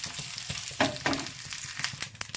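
Spices sizzling in hot ghee as a tempering for curd sambar, a steady crackling fry with sharp pops and stirring scrapes, close and fairly quiet, with no talking.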